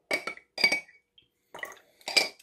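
A spoon stirs food thickener in a glass, giving four bright clinking bursts against the glass with short silent gaps between them.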